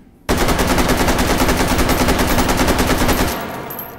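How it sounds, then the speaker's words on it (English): A loud, rapid automatic burst from an AK-101 rifle in Hot Dogs, Horseshoes and Hand Grenades runs for about three seconds of evenly spaced cracks, then cuts off into a short fading echo. "So that's the AK-101. Very nice rifle."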